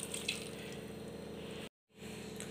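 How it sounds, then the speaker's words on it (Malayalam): Water pours steadily into a pan of jackfruit erissery, a Kerala curry with a ground coconut paste, making a continuous close trickle that cuts out briefly before resuming. "ഇനി ഇതിലേക്ക് കുറച്ച് വെള്ളവും കൂടി ഒഴിച്ചു കൊടുക്കുക."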